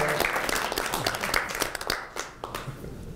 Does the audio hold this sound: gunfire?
no